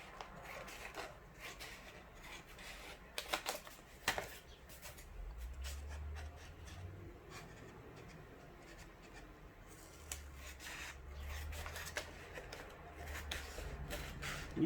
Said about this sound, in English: So I'm going to trim it down so it's about equal to the other sides.